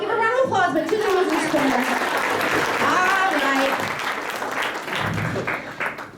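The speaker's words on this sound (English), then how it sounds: "Give a round of applause, but to the loser's corner" Applause at a membership meeting game, clapping mixed with chatter and voices throughout, fairly loud and busy, fading slightly toward the end.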